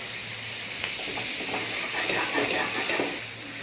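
Butter cubes melt and sizzle among golden-crusted potatoes frying in a pan, a loud, steady hiss with stirring scrapes and bubbling throughout.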